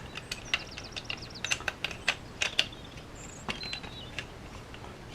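Screws are fitted into the chassis of a Tamiya Subaru Brat model kit. Close, faint, irregular plastic clicks and small ratcheting ticks come in quick clusters against quiet background hiss.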